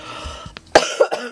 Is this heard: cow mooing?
no